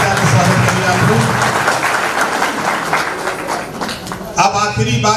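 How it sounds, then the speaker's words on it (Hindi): An audience at a political public meeting gives a sustained round of applause to welcome a new party member. The clapping fades after about four seconds, and a voice then speaks over the crowd. "ताली बजा के स्वागत करिए आप लोग।"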